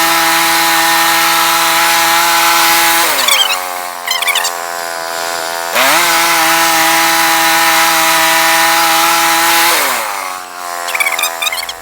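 A sawmill blade cuts the top off a wooden beam, a loud steady motor whine with strong tonal harmonics that dips in pitch as the blade bites into the wood, repeated twice.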